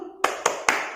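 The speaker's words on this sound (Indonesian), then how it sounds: "tepuk semangat." A class of young children performs the 'tepuk semangat' spirit clap in a kindergarten lesson, three sharp unison claps in quick rhythm, close and loud, with no talking.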